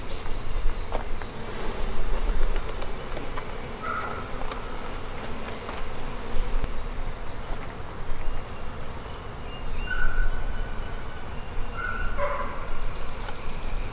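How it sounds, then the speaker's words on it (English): Honeybees buzz in a dense, continuous drone at close range while a hive is opened for inspection, with faint scattered higher tones over the steady hum. "Would be careful with these bees, but these bees aren't careful with me."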